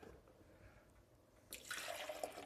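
Water runs and splashes into a coffee maker, starting quietly and growing louder and brighter halfway through as the pour fills, close by with no talking.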